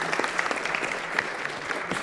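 An audience at a speedrunning event claps steadily and moderately loud for the whole stretch, with faint crowd murmur under the clapping.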